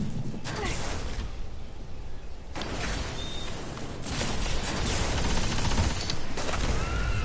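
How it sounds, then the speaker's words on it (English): In the Destiny video game, an enemy bursts like a cursed thrall after a precision headshot kill, a loud blast within a dense stretch of rapid gunfire and mechanical clatter, with no talking. "you just did hear a cursed thrall explosion, because precision kills with this gun cause the enemy to explode like a cursed thrall"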